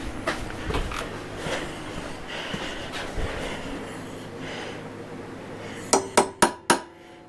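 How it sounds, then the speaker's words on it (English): A hammer strikes a punch into metal on a Grizzly G0815 dust hood: four sharp, ringing taps in quick succession near the end, preceded by quiet shop rustling and handling noise. "I'm gonna tap a little deeper punch hole into that and get my hammer"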